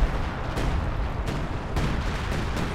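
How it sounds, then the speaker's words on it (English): Assault artillery fire in the video game Company of Heroes 2: a dull, continuous rumble of distant impacts with a few sharper thumps at intervals, moderately loud and without speech. "Yeah, it was assault artillery."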